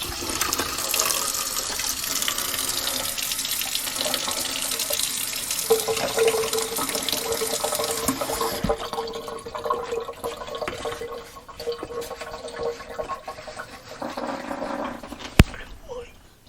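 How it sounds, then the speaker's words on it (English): Cold water runs from a kitchen tap into a pan of minced meat cooking for rice, a steady rushing pour lasting over ten seconds that gradually thins and fades, with a voice speaking over it. "I'm going to add some cold water to it."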